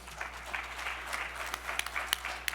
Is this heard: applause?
yes